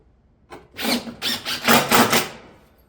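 A drill drives fasteners through a roof tile cap into fascia, giving several quick whirring, squealing bursts in close succession, near and fairly loud, with no talking.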